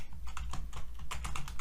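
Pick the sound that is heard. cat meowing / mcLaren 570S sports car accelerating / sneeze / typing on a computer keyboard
typing on a computer keyboard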